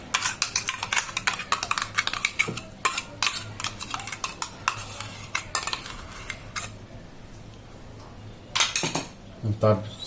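A spoon clinks quickly and repeatedly against a glass or bowl while mango paste is stirred into a sweetened yogurt lassi mix, the taps dense and uneven, pausing briefly before a final burst.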